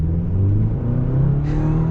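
A 2023 GMC Canyon AT4 pickup truck's engine pulls forward with a steady, close mid-pitched drone and a slight rise in revs near the end; no talking is heard.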